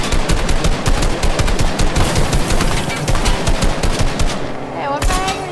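Rapid automatic gunfire in Fortnite aimed at shooting out a car's tires, loud and continuous close-range bursts that pause briefly near the end.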